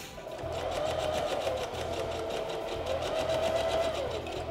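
A sewing machine runs a steady straight stitch through fur fabric, its fast even whirring and rapid needle chatter continuous and close, with no pauses.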